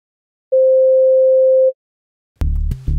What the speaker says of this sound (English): the most simple waveform the nature can produce, the sine wave.